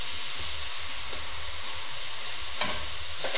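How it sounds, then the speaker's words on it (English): Raw meat sizzles loudly in a hot pan beside already cooked pieces, a steady close hiss of frying broken by scraping stirs near the end. "so you got your raw meat just chucked in and the cooked meat on the side"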